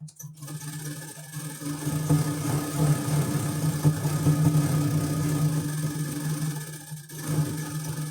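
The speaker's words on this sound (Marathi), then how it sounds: "कमरपट्टी लावते वेळेस आपल्याला एकीकडी बाजू अगोदर शिलाई करून घ्यायचं आहे" A sewing machine runs continuously at close range, stitching a waistband onto a blouse with a steady mechanical hum and whirr, stopping briefly near the end.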